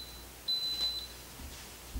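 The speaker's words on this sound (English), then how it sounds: "The timer's gone off on the Instant Pot" An Instant Pot timer sounds during a kitchen session making BBQ pork steaks, a single thin electronic beep held about half a second over a quiet room hiss, with no voices.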